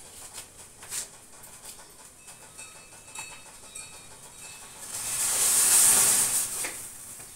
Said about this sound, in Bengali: তো এখন তো এসে দেখছি চায়ের জল টকবক করে ফুটে গেছে